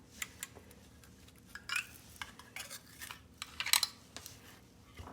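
Two-inch metal binder clips snapped onto a lid, several sharp clicks and scraping metallic taps spaced irregularly, close and fairly quiet, with no talking.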